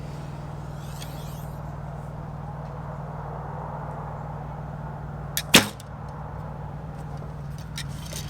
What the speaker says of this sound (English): So now I'm just going to shoot a half a dozen arrows here for you